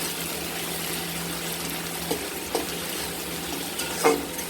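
Tomatoes frying in a pan for egg curry, a soft, steady sizzle with a few faint scrapes of stirring, quiet and continuous, with no talking.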